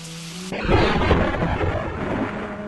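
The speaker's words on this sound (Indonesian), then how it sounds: "tiba-tiba terdengarlah petir tunggal menggelegar di angkasa" A single thunderclap booms overhead over steady rain, a loud rolling crack that swells and then rumbles on for a couple of seconds before slowly easing.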